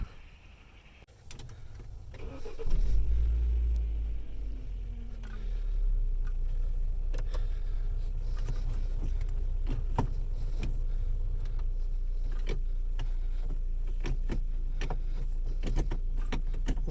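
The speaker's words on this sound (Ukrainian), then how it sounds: "І зараз прибираємо і буду заводити машину, слухати, як працює." A car with a freshly changed manual gearbox oil starts up after a few quiet seconds and then settles into a steady, low idle rumble with faint ticking and clicking over it.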